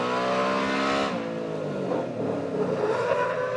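A fire truck engine at a hydrant revs hard, holding a loud steady roar before dropping to a lower rumbling idle, close and alone with no talking.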